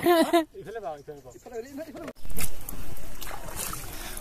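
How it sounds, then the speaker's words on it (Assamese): A voice talks first, then an oar dips and pulls a boat along a river, giving a steady slosh and rush of water that sounds close. "নাও বৈঠা মাৰি আছে"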